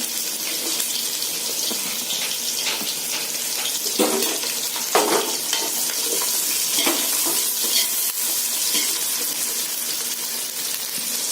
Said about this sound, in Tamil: இந்த ஷேப்பில் கட் பண்ண ஆனியனை போட்டு கொஞ்சம் வதக்கணும்